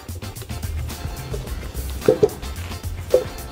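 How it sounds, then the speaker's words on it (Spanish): Bean cooking liquid from cooked red beans is poured into a blender holding toasted sesame, dried guajillo chile and tomato paste, giving a few soft drips and splashes over a low hum of quiet kitchen background. "Le vamos a agregar también un poco de jugo o el agua donde se cocinó el frijol."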